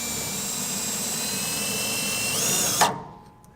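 A power drill whines steadily at high speed, driving a self-tapping screw into the cross member of a 1988 Chevrolet truck. The motor pitch rises near the end, then stops abruptly. Close and loud, with no talking.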